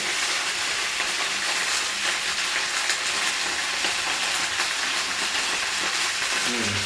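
Cauliflower frying in hot oil in a pan gives a steady, dense sizzle with crackling that stays close and continuous throughout, with no talking.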